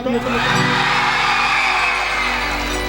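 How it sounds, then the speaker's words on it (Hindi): A dense crowd at a live stage show with singers Madhav Ray and Kanchan Pandey roars with whoops and shouts, a loud, sustained wall of cheering held for a few seconds. "एक बार हल्ला क के ताली बजा दियो"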